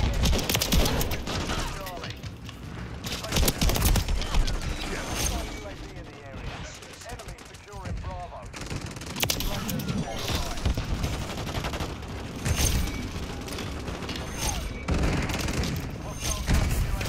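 Shotgun blasts and other gunfire ring out in a Call of Duty: Modern Warfare III match, heavy booming shots in quick bursts with pauses between, loud and close, while someone talks over the action.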